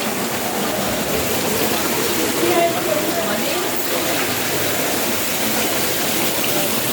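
Fast-flowing water rushes past near a dam, a loud, steady, close roar that holds unbroken throughout, with a faint voice briefly audible beneath it.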